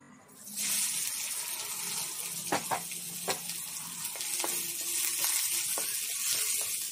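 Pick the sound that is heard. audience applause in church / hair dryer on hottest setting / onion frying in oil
onion frying in oil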